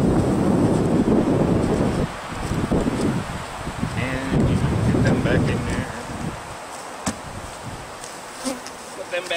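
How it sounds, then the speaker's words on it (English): Strong outdoor wind buffets the microphone in a loud, continuous roar that swells and eases, with faint buzzing insects near a Warre beehive during a bee package installation. "Speaking of wind, I hope you can hear me. It is windy."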